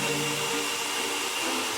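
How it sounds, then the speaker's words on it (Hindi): A hair dryer blowing steadily to dry glue on tissue for Halloween makeup, a constant whooshing hum with a fixed motor whine, close and uninterrupted throughout. "और हेयर ड्रायर से सुखाओ।"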